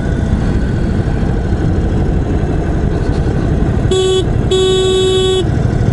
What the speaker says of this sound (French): Et le klaxon, c'est où le klaxon?